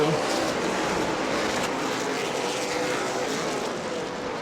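Stock cars circle the Auburndale oval during a weekly racing event, giving a dense, continuous engine roar that fades slightly toward the end. A commentator's voice may run faintly beneath the noise.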